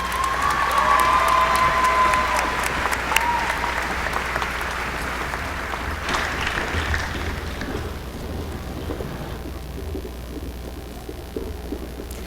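Sustained applause and some cheering from a large graduation audience fill the space, loud at first and gradually thinning toward the end, with a faint low rumble underneath.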